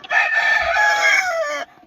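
A single loud rooster crow close by, one long drawn-out call lasting under two seconds, heard alone, from a large-wattled rooster in cold, frosty weather.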